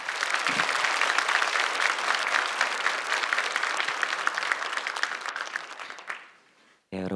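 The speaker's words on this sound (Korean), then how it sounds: "큰 박수로 목사님 모시겠습니다" An audience at a church healing service claps loudly and steadily for several seconds to welcome a pastor, then the applause fades away and stops abruptly near the end.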